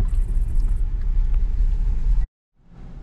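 A car drives through the streets of Mamlyutka, a town in North Kazakhstan, a steady low engine rumble and road noise from inside the vehicle, then abruptly cutting out before quieter rumble returns.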